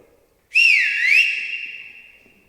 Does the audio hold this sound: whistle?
yes